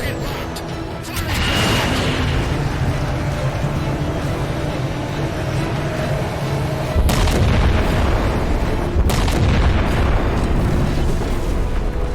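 A ship's weapon fires and its blast booms out in Halo 4, a loud continuous roar of rumbling explosions with sharp heavy impacts partway through and later, voices in the mix.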